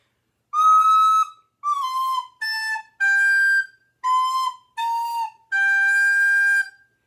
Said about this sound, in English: if you're going to blow into it very hard, you're going to get a squeaky sound in response.